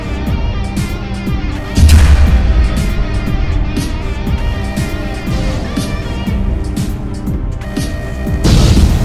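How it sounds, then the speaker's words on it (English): Reactor explosion during a thermal power plant meltdown in the Roblox game Innovation Inc.: a loud boom erupts, then a long rumbling, crackling roar with a second surge near the end under electronic alarm tones. "Explosion."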